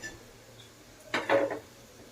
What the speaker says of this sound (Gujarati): હવે આપણે મૂકીશું ભાખરી ભાખરી બનાવવાની તાવડી